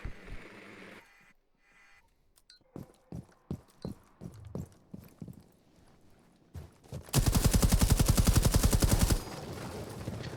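Gunfire in Rainbow Six Siege during a university qualifier match: sharp isolated shots popping one by one, then a loud sustained automatic burst lasting about two seconds, with a caster talking briefly at the start.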